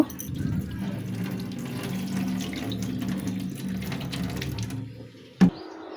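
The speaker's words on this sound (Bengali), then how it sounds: "এবার পানিতে খুব ভালোভাবে ওয়াশ করে একটা স্ট্রেনারে পানি ঝরিয়ে নেব" Steady running water splashes and swirls for several seconds as rice and lentils are rinsed, then cuts off, followed by a single sharp knock near the end.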